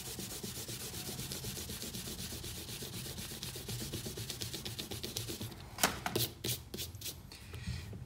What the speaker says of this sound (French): je vais gommer les traits de construction.